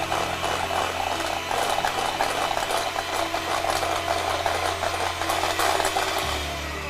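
An electric mixer beats sugar for a tres leches cake, a continuous whirring drone with a gritty scraping texture. It holds steady and near, then its pitch drops slightly toward the end.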